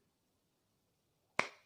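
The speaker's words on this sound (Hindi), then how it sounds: "ये हमने लगाई ताली।" A single crisp hand clap marks a beat of the sixteen-beat Teentaal rhythm cycle, sharp and close after near silence, with a short decaying ring.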